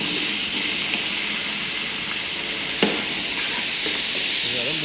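Tomatoes hit hot oil with onions in a large pot for mutton biryani, a constant loud sizzle and hiss with occasional stirring, and a voice speaking briefly near the end.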